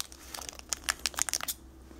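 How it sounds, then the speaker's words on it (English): Scissors cut open foil Pokemon TCG booster packs, a quick run of crisp crinkling and snipping packed into about a second and a half, close and fairly quiet. "he's cutting them with scissors"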